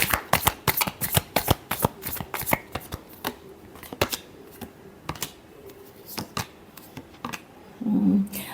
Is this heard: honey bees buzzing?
no